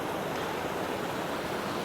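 A small waterfall on a canyon trail gives off a steady, close rush of splashing water, a dense hiss with no breaks and no voices.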